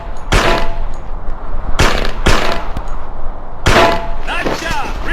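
Gunfire at targets on a shooting range in a video game, heard as several loud sharp bursts, two or three clusters of rapid shots spread across the stretch.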